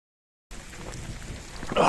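Rain falling outdoors with thunder, starting abruptly as a steady washing hiss with low rumbling beneath, swelling louder near the end.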